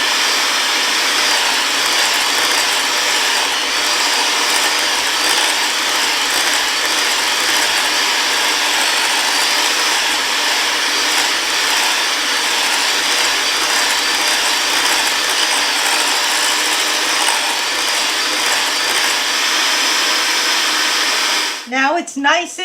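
An electric mixer on speed 4 beats butter for a cooked-flour ermine frosting, a loud continuous whirring drone with a faint rattle of the beaters. It runs steadily for about twenty seconds, then cuts off abruptly near the end.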